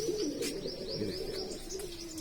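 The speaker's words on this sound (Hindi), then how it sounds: "अलग ही चाल डाल रहे कबूतर।" A breeding pair of Jaipur Tonk pigeons coo softly and continuously nearby, with a few light chirps and wing flutters mixed in.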